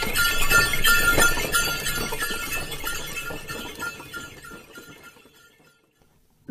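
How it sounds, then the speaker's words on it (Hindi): A bullock cart moves along with rattling, clinking wooden and metal parts and jingling bells over steady clopping, loud at first and gradually fading away. "Bullock cart."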